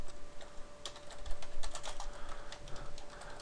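Rapid, uneven keystrokes on a computer keyboard, close and fairly loud, clattering in quick bursts with no talking.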